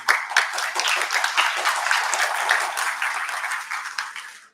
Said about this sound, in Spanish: a quien recibimos con fuertes palmas